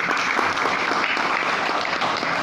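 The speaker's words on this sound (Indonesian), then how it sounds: "Tepuk tangan untuk K-System Kota Medan, Bapak Ibu." An audience at a business success seminar in Medan breaks into dense, sustained applause, loud and even, with many hands clapping at once and no pause.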